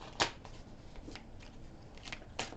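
Quiet riffle and shuffle of a tarot deck in a card reading, a few soft crisp flicks and taps over a low steady hiss, no one speaking.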